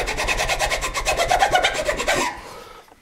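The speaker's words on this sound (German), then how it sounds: "Ich habe das nur ein bisschen innen schön eckig gefeilt." A file rasps a wooden tenon square, about twenty quick, even back-and-forth strokes, close and loud, before stopping abruptly.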